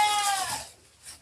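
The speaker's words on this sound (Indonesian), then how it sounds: "Nah ini saudara-saudara salah satu kambingnya, mantap-mantap." A PX goat at a livestock farm lets out a single close, wavering bleat that fades within a second into quiet.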